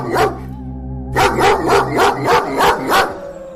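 A dog barks repeatedly in a Hindi animated folk tale, seven or so sharp barks in a steady rhythm following a brief bark and a low tonal pause, loud and close with no talk.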